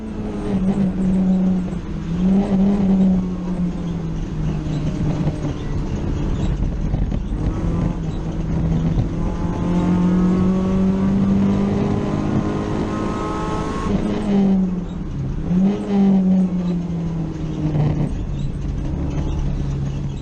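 Loud in-car engine of a race car lapping Brands Hatch, revving up and down through gear changes with rising and falling pitch sweeps, continuous and close with no talking.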